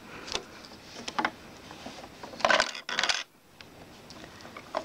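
A pound coin drops into a homemade mechanical sweet machine, giving a few soft clicks and then a brighter rattling clatter midway as it runs past the lever and notches, with quiet pauses around it.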